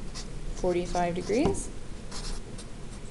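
Handwriting with a pen or marker while working a math problem on angles, soft scratchy strokes running under a man's close spoken explanation.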